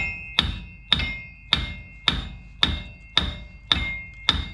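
Eight light, evenly spaced hammer taps ring out about every half second on the axle of a 2006 GMC Sierra / Chevy Silverado 4x4, each a crisp metallic tick with a short resonant tail, close and alone.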